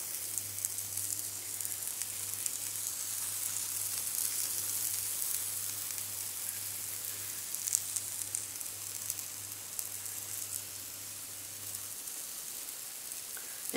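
Waffle batter cooking in a hot, buttered and greased waffle iron gives a steady, crackling sizzle like light rain, continuous and even over a low hum, close and moderately loud.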